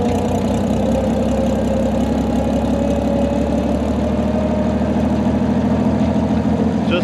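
A tractor engine runs steadily at a low, rumbling idle with a faint knocking pulse, close and loud throughout with no talk.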